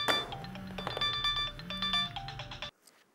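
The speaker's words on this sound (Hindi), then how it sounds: "मोबाइल का फोन बजता है" A mobile phone rings with a bright, repeating melodic ringtone, loud and close with no voices, until it cuts off abruptly just before the end.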